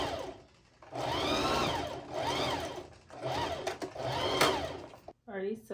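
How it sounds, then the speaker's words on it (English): A sewing machine runs a straight top stitch to attach bias-tape trim to a halter dress, whirring in several long surges that speed up and slow down, close by, with a short spoken remark at the end. "Now it's time to top stitch it. It's just another straight stitch."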